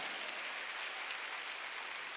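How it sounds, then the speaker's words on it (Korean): A church congregation claps during a Sunday worship service, a steady, dense wash of hand claps that fills the room evenly and without pause for about two seconds, with no voices standing out. "두 손 들고 아멘에 깨닫는 사람만 박수를 하게"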